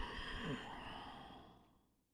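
A slow, faint exhale of breath during a yoga hips mobility class fades gradually into quiet.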